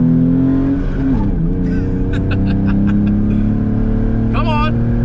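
A Jeep climbs uphill held in first gear, its engine droning loud and steady with rising tone, while voices talk and exclaim over the constant roar.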